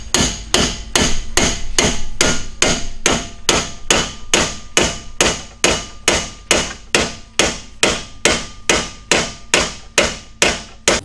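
Hammer blows struck in a steady, even rhythm, about two per second for eleven seconds, loud and close with sharp metallic attacks and no voices.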